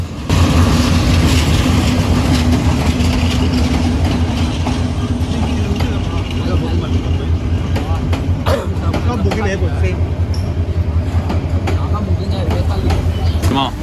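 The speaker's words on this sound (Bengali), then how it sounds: "অনেকক্ষণ বসার পর চট্টগ্রাম বিশ্ববিদ্যালয়ের ট্রেনটি চলে আসলো। এই যে চট্টগ্রাম বিশ্ববিদ্যালয়ের ট্রেন।" The Chittagong University shuttle train pulls into a station, a loud, steady low rumble and rolling clatter from close by, with people talking over the noise.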